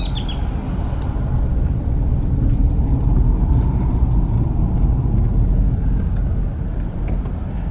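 A car's engine and road rumble roll steadily from inside the vehicle on a Monday-morning drive through the few streets of El Cenizo, Texas, a continuous low drone with no speech.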